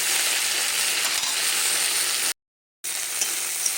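Tender okra fries in a pan, making a steady, dense sizzle that runs unbroken apart from one short silent gap, with no voices.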